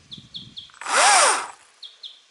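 A Stihl battery chainsaw's electric motor whirs up and winds back down in one short, loud burst of about a second, with birds chirping softly outdoors before and after.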